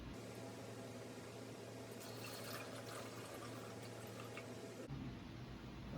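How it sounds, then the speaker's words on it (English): Water is poured into a fish tank filter, a steady continuous splashing and trickling fill that runs for several seconds at moderate level before shifting to a different tone near the end, with no talking. "I need to pour some water into it."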